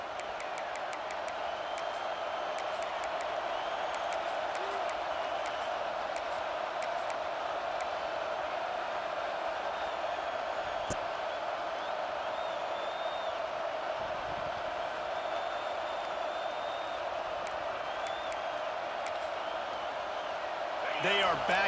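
Stadium crowd noise in the EA Sports College Football 26 video game, with the home crowd rocking the place. It is a loud, continuous roar that holds steady throughout with no talking.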